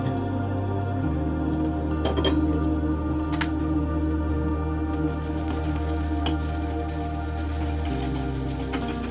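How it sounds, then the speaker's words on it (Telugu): Ginger garlic paste sizzling steadily in a pan over a low flame, a soft continuous fry with occasional crackles under a low background hum, no talking. "కొద్దిగా అల్లం వెల్లుల్లి పేస్ట్ ఒక 1/2 స్పూన్ వేసి అవి అల్లం వెల్లుల్లి పేస్ట్ పచ్చివాసన పోయేదాకా కొద్దిగా లో ఫ్లేమ్లో పెట్టి ఉంచాను"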